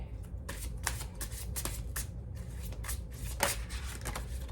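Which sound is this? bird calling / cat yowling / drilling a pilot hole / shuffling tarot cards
shuffling tarot cards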